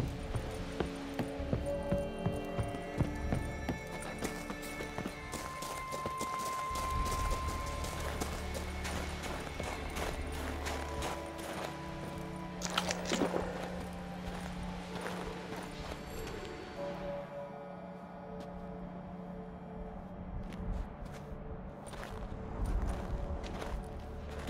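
Hooves of a large horse clip-clopping steadily in Witcher 3, a repeated rhythmic trot under low game music, with occasional heavier thuds and a brief rush of movement midway.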